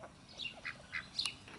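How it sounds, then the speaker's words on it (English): Ducks on a farm quacking in a few short, bright calls spread across the moment, fairly close and clear over a quiet outdoor background, with no talking. "those are the ducks that are hanging out up front"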